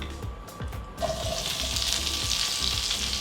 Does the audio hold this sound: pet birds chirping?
no